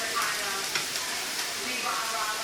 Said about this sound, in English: Let me add the butter.